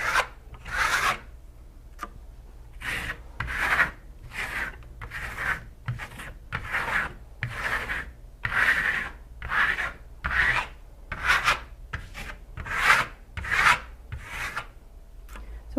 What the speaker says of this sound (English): when you're scraping off the excess amount of shimmer stone, you're actually revealing the highest points of the texture